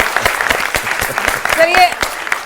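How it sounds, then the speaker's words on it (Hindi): Audience applause at a televised talk event, sharp individual claps in an uneven rhythm, fairly close, with a voice briefly heard partway through. "एक बार फिर ताली बजा दीजिए, अच्छा लगेगा।"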